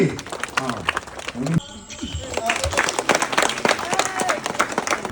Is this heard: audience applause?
yes